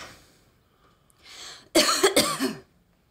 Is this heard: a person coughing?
yes